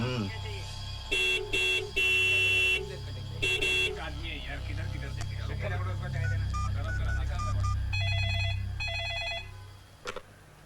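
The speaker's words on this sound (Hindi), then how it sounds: "कब से हॉर्न बजा रही हूँ, तबस्सुम नीचे क्यों नहीं आ रही है?" Repeated car horn honks sound in short bursts and one long blast, then a ringing tone follows over steady engine hum.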